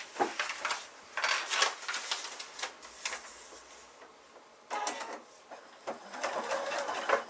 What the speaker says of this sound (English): So I'm going to now start back stitching in the seam allowance, come all the way along and back stitch into this little corner here.